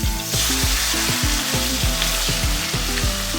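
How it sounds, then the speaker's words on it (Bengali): A rohu fish head fries in hot mustard oil, giving a loud, continuous sizzle with repeated low rhythmic thumps from stirring or turning the pan and no voices. "মাছের মাথাটাকে এপাট ওপাট ভালো মতো ভেজে নেব"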